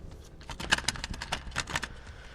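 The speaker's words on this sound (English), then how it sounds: "Does your cassette mechanism make a terrible sound like this when you open it?" A cassette tape deck's eject mechanism clatters open with a rapid series of dry mechanical clicks and rattles, close and moderately loud, with no voices.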